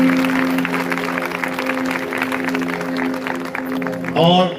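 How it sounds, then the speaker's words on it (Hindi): A church peace rally crowd claps along in steady, fast applause beneath a sustained musical tone and voices, ending with a short rising sweep of sound. "इसलिए जोरदार ताली आप सब लोगों के लिए"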